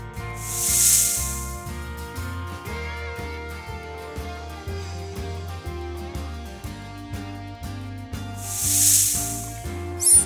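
Two breathy snake hisses, one near the start and one near the end, rise over continuous rhythmic music.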